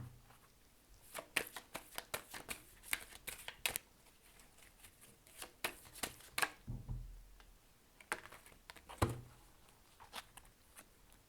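Tarot cards being shuffled by hand, soft irregular riffling and tapping clicks in uneven clusters, quiet and close, with no talking.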